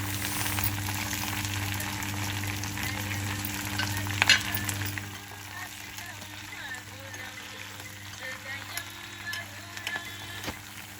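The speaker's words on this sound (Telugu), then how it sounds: "ఒక గుప్పెడు ఫ్రెష్గా ఉన్న కరివేపాకు కూడా వేసుకోవాలి" A handful of fresh curry leaves crackles in hot tempering oil for gongura dal, a steady close sizzle that is louder at first and then settles, while someone talks over it.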